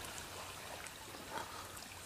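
Creek water trickles and burbles past a stone wall at an inside bend, a faint, steady flow with no voices.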